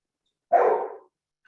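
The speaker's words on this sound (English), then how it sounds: "my dog is barking on cue" A single dog bark, sharp and close, ringing out alone against silence during an extreme heat webinar.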